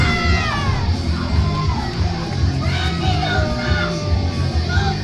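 A crowd at an independent wrestling show yells and cheers around the ring, loud and continuous, with individual shouts and whoops rising out of the roar.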